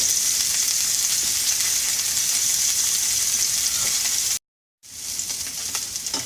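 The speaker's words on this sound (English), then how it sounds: "sear that salmon. Skin side up, meat side down." Salmon searing skin side up, meat side down in a hot pan for a citrus glaze dish: a loud, steady hissing sizzle that cuts out for half a second, then resumes.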